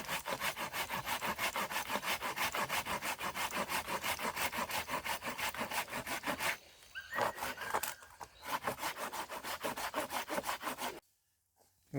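A hand saw cutting through a pine tree trunk outdoors, with a steady, rapid rhythm of loud rasping back-and-forth strokes close by, pausing briefly twice before stopping near the end, no talking.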